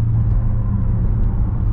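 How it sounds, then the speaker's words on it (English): An older-generation Dodge Charger passes close by, a loud low engine rumble that holds steady through the moment, heard alone without talk. "here comes an older model generation Charger"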